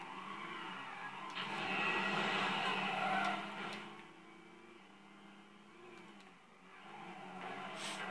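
Engine of a car with four turbos in the racing video game Midnight Club II, a steady droning hum that swells and eases as the car accelerates and drops off, with no talk.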